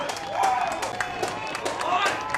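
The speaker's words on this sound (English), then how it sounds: "And listen to the Broadford crowd roar." Broadford football crowd at a country footy match roaring after a goal, a broad cheer and scattered clapping heard under a commentator's voice.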